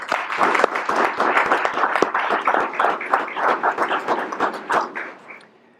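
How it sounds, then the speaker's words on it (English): Board of education meeting attendees applaud together, a full, even patter of many hands that holds steady before thinning and fading out at the end. "let's give a round of applause to everyone who is involved with that partnership"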